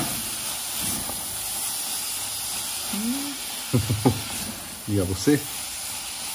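Small hot peppers frying in a pan for a family Sunday lunch, a steady sizzling hiss throughout, with short spoken exchanges over it near the end.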